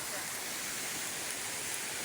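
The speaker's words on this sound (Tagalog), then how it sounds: "Ito, waterfalls." Steady broadband rush of a waterfall at a jungle treasure-digging spot by a lone tree, filling the clip evenly with no talk over it.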